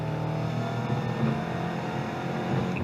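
A 700hp Shelby GT500 Mustang engine pulls hard under acceleration in fifth gear at low RPM, a loud, steady, rumbling drone with no voices.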